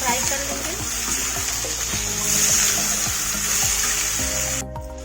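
Radish and eggplant frying in a pan, a continuous loud hiss of oil with faint spattering and occasional clatter of a spoon, steady throughout before cutting off at the end.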